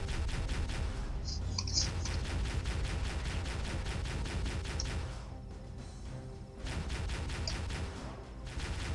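Rapid automatic turret gunfire in the Halo video game rattles in dense, evenly spaced bursts, pausing briefly before resuming, loud and continuous.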